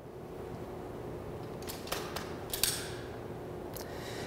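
A carbine or rifle bolt slides forward to engage the bolt catch, producing a few sharp metallic clicks and clacks close by over a quiet, steady background.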